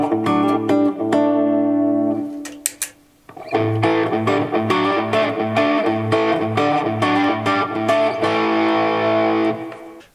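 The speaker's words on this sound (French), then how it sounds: "Le son que vous entendez, il est directement dans ce petit ampli pédale fabriqué à la" Electric guitar played through a small handmade pedal amp with drive, a crunchy overdriven tone with rhythmic chord strums and short muted stops, loud and close with no talking.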